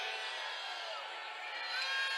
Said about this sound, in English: Crowd here not liking the call.